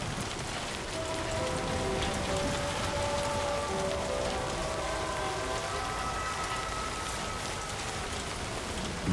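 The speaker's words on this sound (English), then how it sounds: "Here we go again with the damn rain." Steady rain falls and patters on surfaces in the video game Death Stranding 2, a dense, even hiss that lasts throughout, with faint tonal sounds beneath it.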